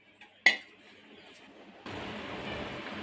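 Soaked white peas tipped into a metal pressure cooker with one sharp clink, followed by a soft rattle and then a steady hiss of pouring or sliding.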